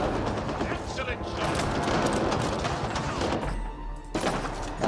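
Rapid sci-fi gunfire bursts from the video game Mass Effect Andromeda, dense and continuous across the scene with loud shots and impacts, briefly easing near the end before resuming, with a voice talking over the action.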